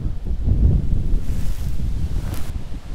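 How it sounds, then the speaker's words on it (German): Strong wind gusts roar across the microphone on a lake during a fishing trip in Sweden, a low, rumbling, buffeting rush that swells and eases unevenly, with no one speaking. "Der Wind ist gerade zu stark."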